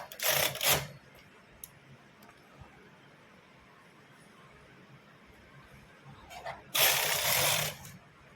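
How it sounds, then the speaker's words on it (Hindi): Sewing machine stitching a button placket on a sweater: two loud, close bursts of rapid mechanical whirring, one short at the start and a longer one near the end, with quiet handling between. "इस तरह से हमने एक सिलाई चला ली इसकी।"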